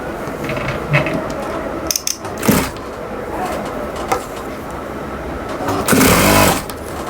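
A sewing machine stitching a child's blouse runs in short mechanical bursts with clattering, ratcheting needle action, loud and close, interrupted by brief pauses and fabric handling.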